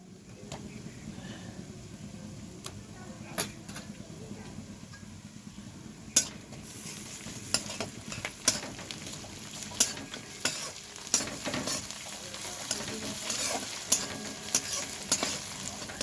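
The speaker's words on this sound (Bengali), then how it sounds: "এবার আমি পেঁয়াজ কুচির মধ্যে দিয়ে দেবো রসুন বাটা আর আদা বাটা" Steady frying sizzle of chopped onion with ginger and garlic paste in a pan runs throughout, with frequent spatula scrapes and taps against the metal, and no talking.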